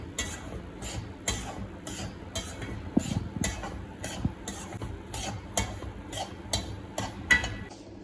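Semolina dry-roasts in a pan for rava kesari, heard as a steady, rhythmic scrape and tick of a spatula stirring close by, with no talking.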